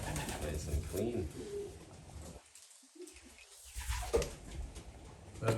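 Belgian pigeon cooing close by in short soft low-pitched bursts, mixed in with people talking quietly around it.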